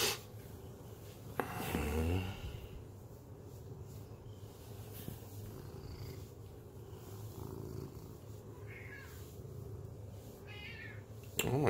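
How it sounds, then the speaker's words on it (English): Cat meowing in the dark in the morning, a few short cries spaced through a quiet room, faint and close, with soft rustling between calls. "And here's the Coco crying from the in the darkness."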